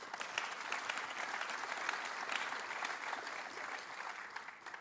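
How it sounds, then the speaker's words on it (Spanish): Church congregation applauding together during a Sunday service, steady dense clapping sustained throughout at fairly even loudness, with no voices standing out. "Dale un aplauso a Dios por eso."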